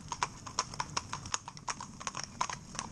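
A pair of horses harnessed in tandem pull a carriage, their hooves clip-clopping in a steady, quick rhythm of sharp, close knocks throughout, with a low rumble of wheels beneath.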